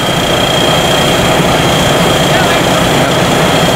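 Steady, loud drone of a Sit Charoen Kan Chang rice combine harvester engine, a dense low rumble with a constant high whine running without pause.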